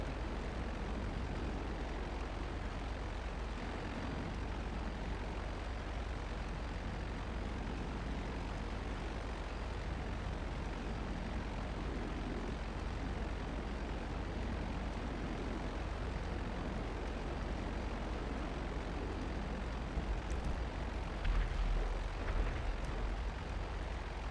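Steady aircraft engine drone of a plane flying in Grand Theft Auto Online, a continuous broadband roar held at even loudness throughout, with a brief higher whine near the end.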